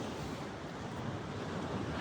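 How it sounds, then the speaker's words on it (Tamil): Surf rolling in steadily at Chennai's Marina beach on a full-moon day, with continuous broadband wash of waves and gusting wind buffeting the microphone throughout, no voices. "பௌர்ணமின்றதுனால பார்த்திங்கன்னா அலை வந்து ரொம்ப ஜாஸ்தியாக இருக்குது."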